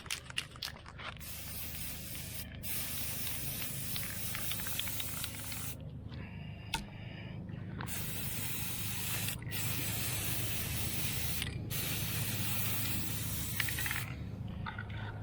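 A Krylon satin black paint-and-primer spray can hisses in several steady bursts with short pauses between, close and loud, while parts for a 1965 El Camino control arm and disc brake conversion are coated.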